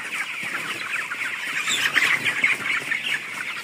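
Kazi Lumen broiler chicks in a poultry shed chirp and peep together in a dense, continuous high chatter, close and fairly loud, with no voices.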